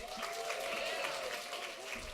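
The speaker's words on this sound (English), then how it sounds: "Everyone please give Danielle a round of applause." An audience at a student orientation showcase applauds a presenter: dense, steady clapping from many hands that fills the room for a couple of seconds at an even level.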